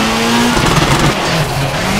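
Rally car in WRC 4 at the Acropolis Rally swinging through a handbrake turn, a loud close engine drone with a tonal whine sliding over broadband gravel skid and tire noise, continuous for about two seconds.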